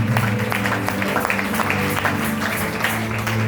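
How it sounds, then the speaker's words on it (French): A church congregation at a New Year's Eve service applauds and cheers, steady dense clapping filling the space from start to finish with a faint murmur of voices underneath. "Est-ce que nous pouvons l'encourager par vos acclamations?"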